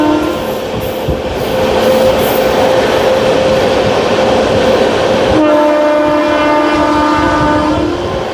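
The Jodhpur Superfast express running at high speed between Vijayawada and Ongole, heard from on board as a loud, continuous rush of wheels and wind, with a sustained horn blast that changes pitch partway through.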